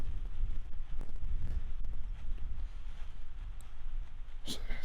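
Strong wind buffets the microphone on a golf course, a continuous low rumbling roar with gusty surges across the whole stretch, loud and rough, with faint background sounds.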